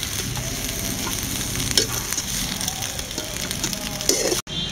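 A brinjal, mint and tomato chutney mixture is stirred as it fries in a pan, giving a steady sizzle with scraping strokes throughout and a brief break near the end.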